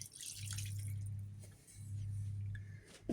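Water and two beef stock cubes going into a lamb shank pie filling, a steady close pouring and trickling stream in two long bursts with a brief pause between, no talk.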